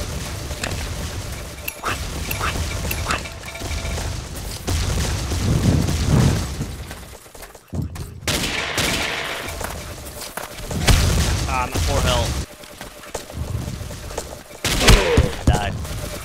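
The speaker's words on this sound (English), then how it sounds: "I commanded an airstrike in B5." Airstrike explosions in the Ace of Spades video game, a series of heavy booms and thuds with shattering debris and scattered gunfire, loud and busy, with players talking at times.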